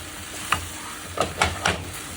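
A utensil stirring food in a frying pan, a few distinct scrapes and clatters against a faint, soft sizzle, close and fairly quiet with no talking.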